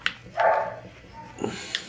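A puppy gives a short yip-like bark and a soft whimper, close and brief, amid background game sounds.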